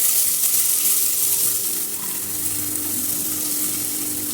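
Small onions and slit green chillies sautéing in a pan of oil for a potato and green peas kurma, a steady loud hiss and sizzle running throughout with no talk.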